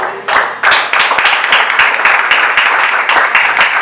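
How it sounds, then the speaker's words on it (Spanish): A church congregation applauding together, dense overlapping hand claps filling the room at a loud, steady level for the whole stretch. "Denle un aplauso al Señor."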